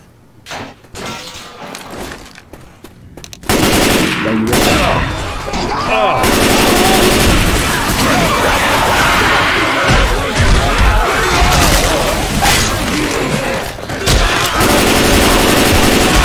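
Heavy automatic gunfire in a Left 4 Dead 2 versus finale erupts after a quiet few seconds, then rattles on loud and continuous with overlapping bursts and shots.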